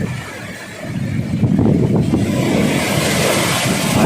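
Big, strong sea waves pound the Eretan coast in the west monsoon season, surging far enough to reach houses. The surf roars loud and continuous, mixed with steady wind buffeting, and builds in intensity after the first second.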